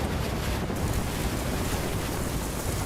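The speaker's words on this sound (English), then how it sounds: "These waves are not good." Surf pounding during Hurricane Matthew at high tide, a steady roar of crashing waves mixed with heavy wind buffeting the microphone, loud and continuous with no letup.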